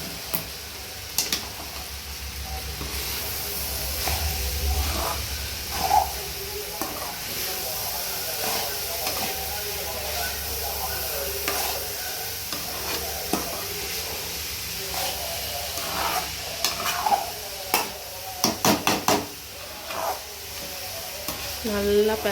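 Carrots stirred and fried in a pan, with a steady sizzling hiss under repeated scraping and clinking strokes of a spoon against the pan, and occasional louder clatters toward the end.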